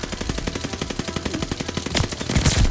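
Rapid automatic fire from the Type 100 submachine gun in Call of Duty: Vanguard, a fast even stream of close, punchy shots in one sustained burst, growing slightly louder and busier near the end.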